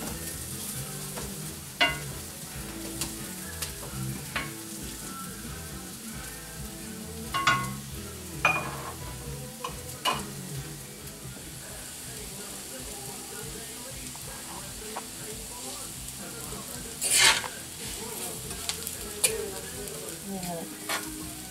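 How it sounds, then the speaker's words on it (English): Couscous sautes with vegetables in a pan, a soft continuous sizzle broken by repeated scraping and clattering strokes of a utensil stirring it, close up and fairly quiet. "Stirring every so often to make sure it cooks evenly."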